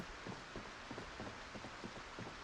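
Steady rain falls in a soft, continuous hiss with faint irregular patter, distant and quiet throughout, no voices.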